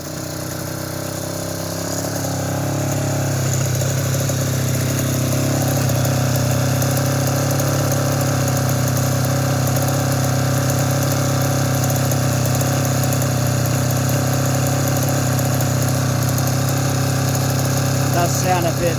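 Engine of a 1990 Suzuki RGV 250 VJ22 two-stroke motorcycle idling steadily at close range, a constant loud drone that rises slightly early on and then holds even.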